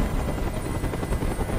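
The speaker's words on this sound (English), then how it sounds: "I can't stand that noise anymore! Tell that helicopter to get out of here!" A police helicopter hovers overhead in the video game Detroit: Become Human, its rotor producing a loud, continuous rhythmic thrum and rumble that persists throughout.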